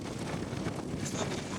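Wind rushes over the microphone while riding a scooter on the road to Mustang, a steady, dense roar that is close and loud throughout with no pauses.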